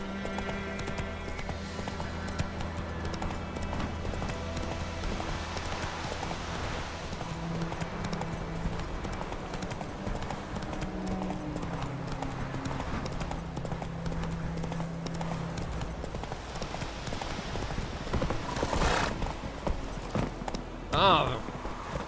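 Hooves of Roach, Geralt's horse in the video game The Witcher 3: Wild Hunt, clip-clopping in a steady galloping rhythm over game music, with brief spoken lines and a whinny near the end.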